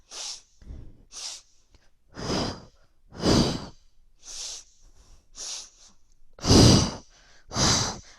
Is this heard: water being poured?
no